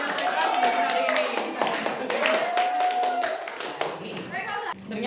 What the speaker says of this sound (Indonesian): silakan berikan aplaus untuk diri sendiri karena sudah berhasil menyelesaikan tugas hari ini